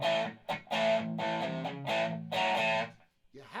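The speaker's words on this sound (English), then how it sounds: "Great for distortion, hard chords" Distorted electric guitar played through a Joemeek gbQ rings out in thick, hard-strummed chords with brief gaps between sustained bursts, loud and up front.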